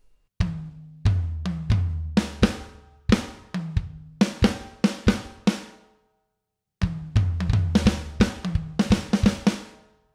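A drum kit plays two fills from a song, with rapid tom and snare hits and crashing cymbals in two bursts separated by a brief silence, loud and close.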